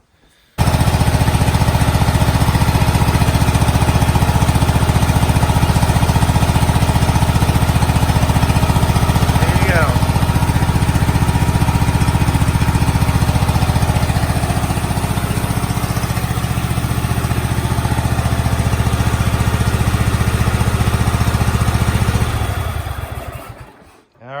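A Craftsman GT5000 garden tractor engine misfiring on one cylinder runs steadily and loudly up close with a rough, uneven drone for over twenty seconds, then cuts off at the end.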